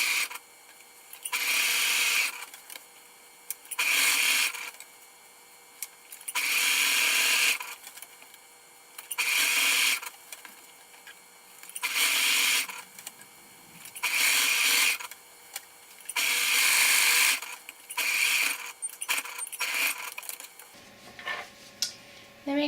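Serger motor whirring in repeated bursts as it clean-finishes the fabric edge of sleep shorts, each run a few seconds long with short pauses between, close and steady.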